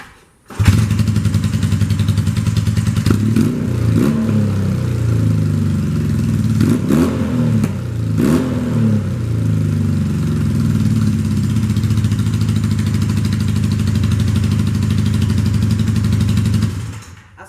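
A 1978 Honda CB400A Hondamatic motorcycle with missing exhaust clips starts up and idles close by, a steady low, throbby engine note broken by a few quick throttle blips early on before it settles back to an even idle.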